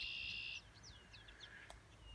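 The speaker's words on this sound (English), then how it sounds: "there's white-throated sparrows too." A white-throated sparrow gives a sustained high whistled note, then short sliding chirps follow, faint and distant outdoors.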